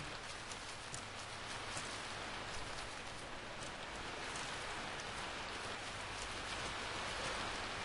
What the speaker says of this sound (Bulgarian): заслушайте се малко, дами и господа, как приятно вали